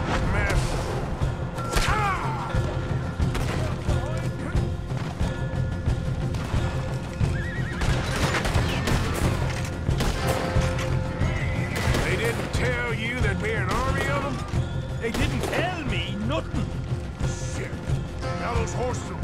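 Horses in Red Dead Redemption 2 whinny repeatedly and hooves pound in a fast gallop as they bolt, loud and close. Scattered thumps and crashes mix into the busy, continuous commotion.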